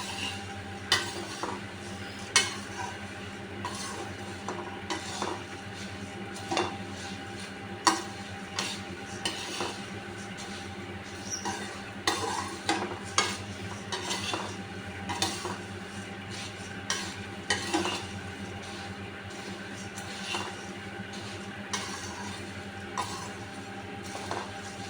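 Puffed rice (murmura) roasting in a pan as a spoon stirs it, making a steady run of scraping and clinking strokes over a faint sizzle. No one speaks.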